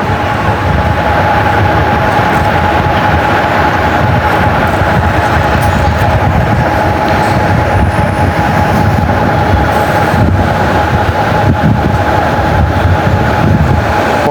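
Lalmoni Express passenger train running on the Dhaka to Bogura line, heard as a loud, steady, close rumble and rattle of the carriages that continues without a break, with no voices.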